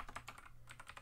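Rapid keystrokes on a computer keyboard while writing Roblox script code, a quick run of soft, close clicks with a short pause midway.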